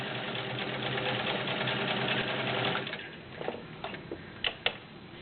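A vintage Kenmore 1752 sewing machine with cams runs a zigzag stitch in a steady, fast mechanical whir for about three seconds, then stops, followed by a few scattered clicks and knocks.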